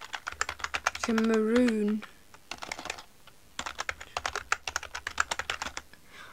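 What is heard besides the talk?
typing on a computer keyboard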